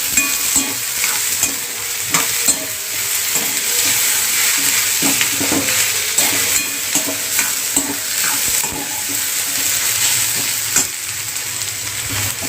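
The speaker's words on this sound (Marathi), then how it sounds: "आपल्याला कांदा चांगला भाजून घ्यायचा आहे चांगला असा ब्राऊन कलर होईपर्यंत आपल्याला चांगला भाजायचा आहे कांदा" Sliced onions frying in hot oil for onion chutney, a steady sizzle with repeated scraping strokes of a spoon stirring them around the pan, close and continuous with no voices.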